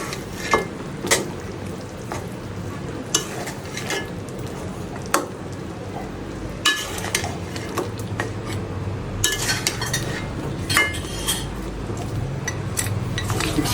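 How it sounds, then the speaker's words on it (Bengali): Ingredients stirred and mixed in a kadai pan for badshahi kadai, with steady frying hiss underneath and scattered metallic scrapes and clinks of a spoon against the pan, fairly close. "অ্যাড করে এটাকে আমরা একটু নেড়ে দিব, মিক্স করে দিব আর কি।"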